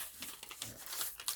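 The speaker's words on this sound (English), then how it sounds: "page from my old, it's actually a thesaurus, and just rip that" A page ripped out of an old thesaurus gives brief crinkling, tearing paper sounds. Several quick, close rustles and rips follow in short succession, with no voices.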